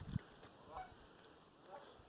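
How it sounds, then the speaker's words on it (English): A goose honks once, loud and close, then fainter honks follow at intervals over a quiet outdoor background along the Columbia River north of Pasco, Washington. "You hear some geese, maybe."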